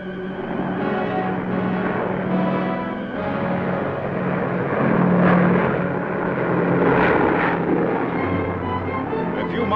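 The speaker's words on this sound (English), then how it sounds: "Overhead, American planes patrol." American military planes patrol overhead above a garden in wartime Japan, their propeller engines droning steadily and loudly throughout, swelling slightly midway, with no talk over them.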